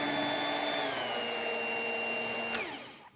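A stand mixer kneads brioche dough with a steady electric motor whine, moderately close and alone, its pitch sliding down slightly before the motor winds down near the end.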